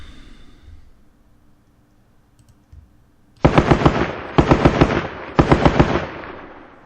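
Gunfire in a video game firefight along a straightaway at Terijoki, heard as three loud, rapid bursts of automatic fire after a quieter stretch of low rumble and faint distant noise.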